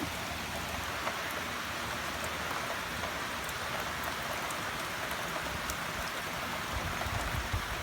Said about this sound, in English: Little bit rainy today.